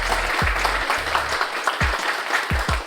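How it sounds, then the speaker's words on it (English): Audience applause at a chef conversation event with local food businesses in Indianapolis, a steady broad clatter of clapping filling the room, with low thumping bursts underneath. "Give them a round of applause real quick"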